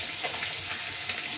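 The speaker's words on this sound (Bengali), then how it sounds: "এদিকে মাছটা ভাজা একদিকে হয়ে গেছে," Fish fries in a pan with a continuous, even sizzle and crackle, close and moderately loud, with no voices.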